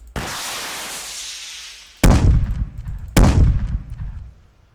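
Shotgun in an Unreal Engine 5 game fires three loud blasts, each with a sharp attack and a decaying boom, the later two heavier and spaced about a second apart.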